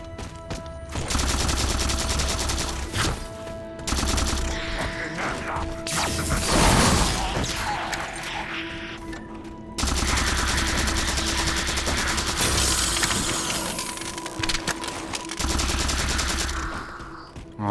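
Rapid automatic gunfire from the video game Halo 4, loud sustained bursts broken by short pauses, with mechanical weapon sounds and a crash in the middle.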